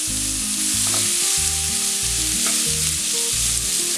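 Sliced onions salted and frying until browned in a pan for a Kerala-style roasted chicken curry, a steady loud sizzle with stirring scrapes throughout, no voices.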